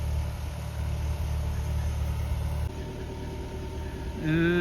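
An electric generator run during a power cut hums with a steady low drone that shifts slightly midway, with a higher tonal whine rising in at the very end.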